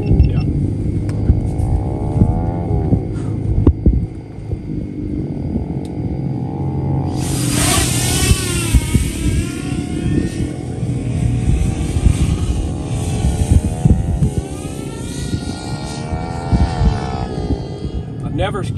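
An iFlight Nazgul XL10 V6 10-inch FPV drone rips through open desert, its propellers whining and surging in pitch as it climbs and dives, loud throughout with voices talking over it.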